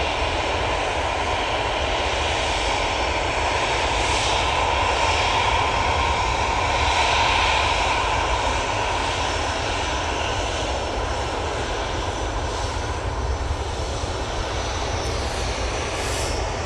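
An EasyJet jet airliner takes off at Manchester Airport bound for Amsterdam Schiphol, a steady, loud engine roar that holds through the whole stretch, broad and dense with no voices over it.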